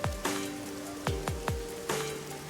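Rain falling in the game Rain Code, a steady soft patter throughout, punctuated by several sharp low thuds and brief tonal chimes, with no talking.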